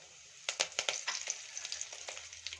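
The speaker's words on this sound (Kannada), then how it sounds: "ಎಣ್ಣೆ ತುಪ್ಪ ಚೆನ್ನಾಗಿ ಬಿಸಿಯಾಗಿದೆ. ಈಗ ಸಾಸಿವೆನ ಸೇರಿಸ್ಕೋತಾ ಇದ್ದೀನಿ." Mustard seeds and cumin dropped into hot oil and ghee, crackling and popping in a series of sharp close bursts over a soft steady sizzle.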